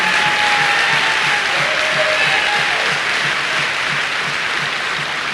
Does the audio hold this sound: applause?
yes